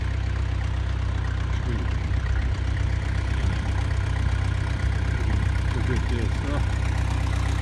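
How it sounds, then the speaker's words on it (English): A farm tractor sits idling outdoors, its low steady engine rumble running continuously under faint background noise, with a brief spoken word from a man nearby. "Check out my tractor"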